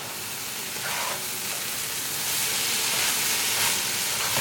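French beans and chickpeas sizzle in an uncovered pan while being stirred, a loud, steady hiss of frying that swells slightly as mixing continues, with no speech.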